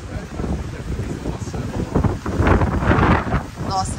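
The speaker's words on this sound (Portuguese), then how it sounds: "Nossa, agora aumentou o vento." Strong gusting wind from Hurricane Ian in Florida buffets the microphone in an empty street, roaring in surges that swell louder midway, with faint voice traces in the background.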